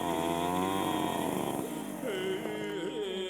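A chainsaw engine runs steadily and loudly in Tuva, its buzzing pitch wavering as the throttle rises and falls, with no other sounds.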